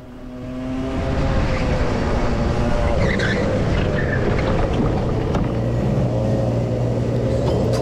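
Several racing karts scream past with engines droning loudly, tyres skidding and scrubbing as they slow sharply during an accident on track, a continuous close roar with a lower engine note settling in near the end.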